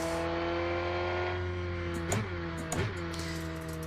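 Rennsport race car engine holding a steady high drone, with two quick upshift blips near the end, close and alone with no talking.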